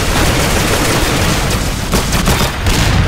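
Dense, loud gunfire from a golden gun in an arena shooter video game, a continuous barrage of overlapping shots filling the whole stretch.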